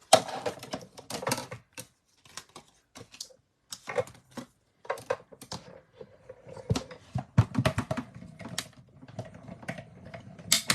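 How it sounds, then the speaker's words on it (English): A die cutting machine cuts out a small shape with a run of quick clicking, ratcheting taps in irregular bursts, close and moderately loud, broken by short pauses. "So let's die cut out our little friend really quick."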